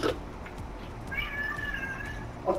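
A house cat meows at close range, with short tonal cries at the start and end and a drawn-out, wavering meow in the middle over faint room noise. No one speaks.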